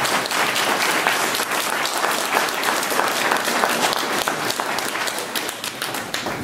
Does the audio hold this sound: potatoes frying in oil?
no